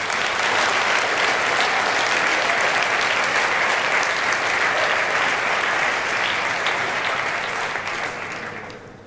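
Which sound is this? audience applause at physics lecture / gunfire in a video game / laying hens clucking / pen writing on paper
audience applause at physics lecture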